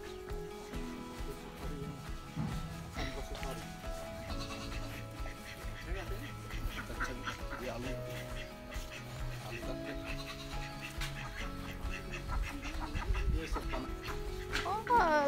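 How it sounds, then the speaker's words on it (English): Ducks in a village of traditional potters on the river island of Majuli, heard as nasal quacks scattered among voices talking nearby, the calls fairly close and irregular. "Ducks."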